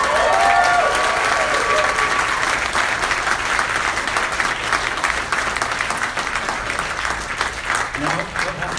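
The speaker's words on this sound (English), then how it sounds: "Give them a huge round of applause" A large crowd at a Hindu wedding applauds after the seven vows in a steady, dense wash of clapping that lasts throughout, with a few voices and whoops briefly heard at the start.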